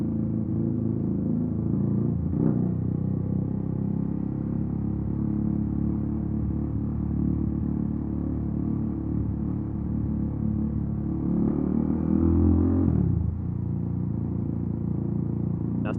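A Yamaha MT-07 motorcycle is ridden in first gear, giving a steady, choppy low engine drone that swells briefly near the end before easing off.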